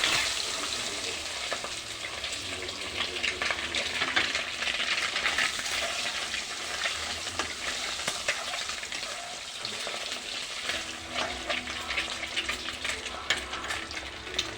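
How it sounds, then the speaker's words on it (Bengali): Eggs coated in salt and turmeric fry in hot oil in a wok, giving a steady, close, continuous sizzle with faint clinks of stirring throughout and no talk. "এবার এই ডিমগুলোকে লাল লাল করে ভেজে দেবো।"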